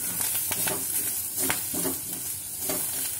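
Soya chilli with black pepper, cumin powder and coriander frying in a pan, giving a loud, continuous sizzle broken by repeated spatula scrapes and stirring strokes close by.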